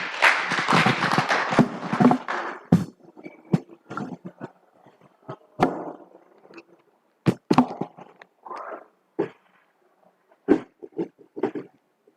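An audience at an agroecology side event claps after a speech. Dense applause at first quickly thins into scattered, isolated claps with quiet gaps, heard from a moderate distance in a hall.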